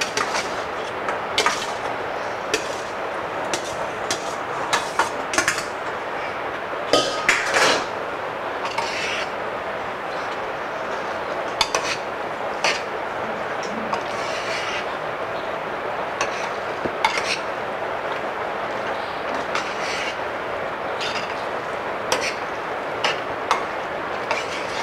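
Boiled macaroni pasta tipped into a pan and stirred, with irregular scraping and clinking of a utensil against the pan over a steady background hiss, moderately close and without talk.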